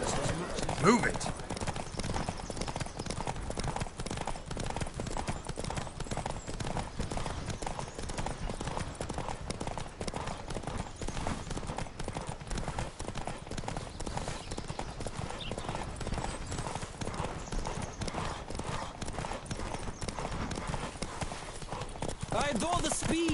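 Galloping horse hooves pound through a horse race in The Witcher video game, a steady rapid clip-clop that runs for the whole stretch under voices and race noise.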